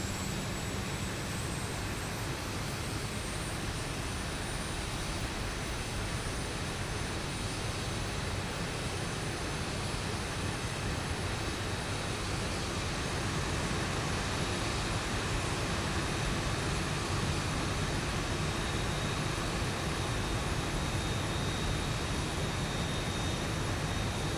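Engine noise of a Zibo Boeing 737 jet in the X-Plane 11 flight simulator, heard from outside at the left engine: a steady, even broadband roar and whine holding constant throughout with no voices.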